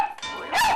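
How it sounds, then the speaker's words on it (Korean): A pet dog gives a short, loud bark followed by a higher yelping cry, heard close up with no talking. "빼로의 짖는 소리는 거의 기차 소리와 맞먹을 정도인데요"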